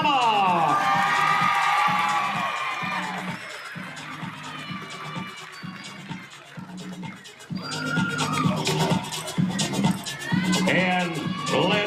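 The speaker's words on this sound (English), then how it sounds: "Keep your applause coming for Alabama." A crowd applauds and cheers at a Babe Ruth League All Stars youth baseball opening ceremony, the cheering swelling loudly toward the end, mixed with an amplified announcer's voice.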